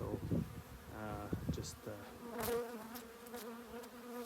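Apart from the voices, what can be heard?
honey bees buzzing at a beehive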